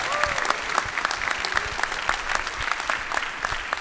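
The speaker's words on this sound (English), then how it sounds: "One more round of applause, please." Steady applause from a crowd, dense clapping throughout with a few scattered cheers rising above it.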